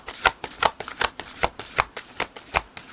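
Large tarot cards being shuffled by hand in a steady run of crisp riffling bursts, about a dozen close slaps and flutters over a few seconds, with no talking.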